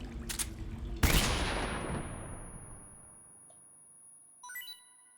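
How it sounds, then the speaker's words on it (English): A stun grenade in a stealth video game goes off as one sharp, loud blast that decays into a long fading ring, with a tinny high tone and a brief chime after it. "let's use another stun grenade"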